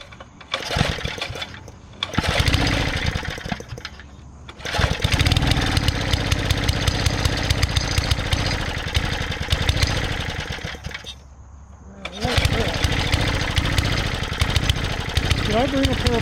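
A small engine on a used rototiller from an estate sale sputters, cuts out, then catches again and runs at a rough, steady idle, loud and close, with brief gaps of near silence between runs.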